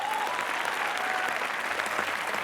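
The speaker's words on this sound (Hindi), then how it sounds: "ठोको तालियां जरा जोरदार।" A studio audience at a Comedy Nights with Kapil taping applauds steadily, dense clapping filling the whole stretch at a fairly loud, even level.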